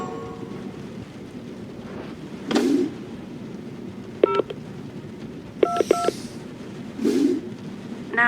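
Telephone keypad tones sound in the video game Maze 2 The Broken Tower as a number is dialed, with several clear beeps in uneven groups over a low background hum, plus a few softer clicks.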